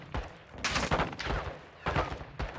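Gunfire in the Call of Duty Modern Warfare 2 campaign, several loud bursts of shots in quick clusters with short gaps between them, close and sharp, with no one speaking.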